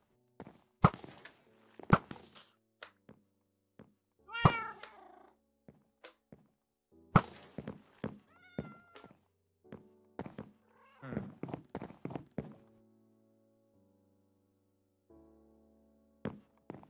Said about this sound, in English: We got more cats.